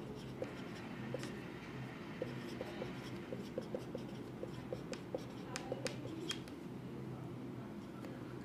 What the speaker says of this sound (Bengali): লিখে দিচ্ছি একটু করে।